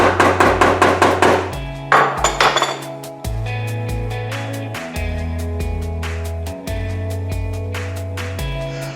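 Repeated hammer blows tapping a screw loose on a kitchen gas hob's thermocouple, a quick run of sharp metallic clinks at first, then slower, spaced ringing strikes with lingering resonant tones.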